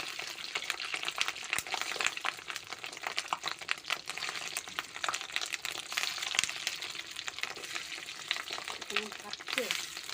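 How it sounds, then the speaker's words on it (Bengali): Fish roe fries in a wok with a steady, dense sizzle and crackle that runs throughout, with small pops and faint stirring scrapes. "ওটাই আমি ডিমটা ভেজে নেবো কড়াতে"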